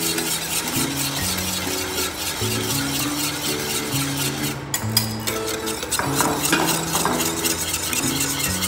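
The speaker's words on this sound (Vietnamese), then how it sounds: "Chúng ta sẽ khuấy đến khi nào mà chúng ta cảm nhận là cái phần đường nó không có còn ở dưới đáy nồi nữa" A whisk stirs a sugar and agar mixture in a pot, giving a steady scraping and swishing that runs under continuous background music.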